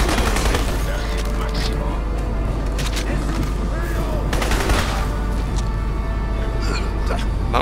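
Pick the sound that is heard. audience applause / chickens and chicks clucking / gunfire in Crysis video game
gunfire in Crysis video game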